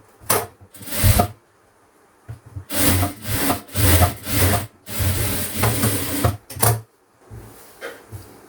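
A sewing machine stitches a blouse sleeve in several uneven bursts of rapid mechanical chatter, close and fairly loud, broken by short pauses as the fabric is guided.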